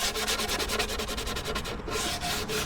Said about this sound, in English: take a old sanding disc like this, fold it in half, and work over those edges so they're nice and smooth